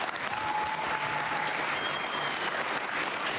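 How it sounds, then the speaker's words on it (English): Conference audience applauds a team, a continuous even wash of many hands clapping from start to finish with no talk. "I think they deserve a quick round of applause for all the hard work they did"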